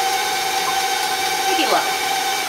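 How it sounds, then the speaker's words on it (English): An electric mixer hums steadily at medium-low speed while mixing brownie batter, a constant whirring drone close by, with a person talking over it. "So just let it mix at, like, medium-low speed."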